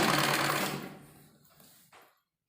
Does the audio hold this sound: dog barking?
no